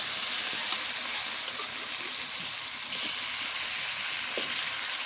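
Broiler chicken pieces sizzling in hot oil in a pan give a loud, steady, hissing fry that holds evenly throughout with no talking.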